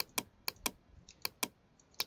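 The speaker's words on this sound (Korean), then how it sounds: "키보드의 왼쪽, 오른쪽 대괄호" Computer keyboard keys are pressed one at a time, seven crisp clicks in an uneven rhythm, close and fairly loud with quiet gaps between, while adjusting brush size in Photoshop with the bracket keys.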